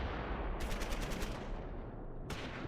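Anti-tank guns firing in the Close Combat 4 Battle of the Bulge wargame, a rapid string of sharp shots over a steady rumble, then a single later report, moderately loud.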